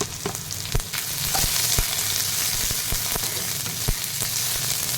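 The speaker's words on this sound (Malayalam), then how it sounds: "അരിഞ്ഞു വെച്ചിരിക്കുന്ന സവാള ഇട്ടൊന്ന് വഴറ്റുക" Chopped onions sauté with curry leaves, sizzling and crackling in a hot pan, with a steady frying hiss and occasional sharp pops and stirring scrapes.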